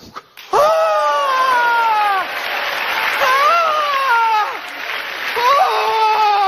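Studio audience applause on a comedy parody of a game show breaks out abruptly and stays loud and dense for several seconds, mixed with high, drawn-out whoops and shrieks of excited cheering.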